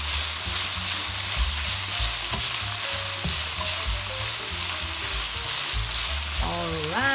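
Diced ham and green onions fry in a pan for a breakfast ham and eggs, a continuous loud close sizzle with soft stirring scrapes and a faint tone near the end.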